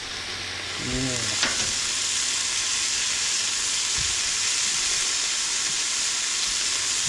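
Buffalo burger patties fry on a griddle with a steady, loud sizzle that fills the whole stretch, flipped near the start with a brief scrape and clatter, while a voice murmurs once.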